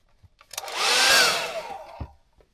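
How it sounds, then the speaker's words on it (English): A heat gun switched on briefly for heat shrink on a battery load tester repair, a close airy blower hiss swelling up and fading after about a second, with a faint motor whine and a couple of clicks around it. "I'm going to grab my heat gun here"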